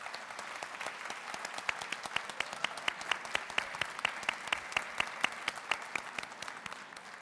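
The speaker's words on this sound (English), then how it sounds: "just really give a round of applause for Hu Feng Chen" A convocation audience at Lambton College in Toronto applauds steadily, dense clapping from a large crowd filling a hall, with a few sharper individual claps standing out at a regular beat.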